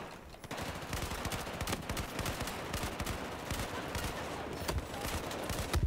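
Dense gunfire in the video game Battlefield 4, rapid automatic bursts and scattered shots cracking continuously, fairly loud and close, with no clear talking over them.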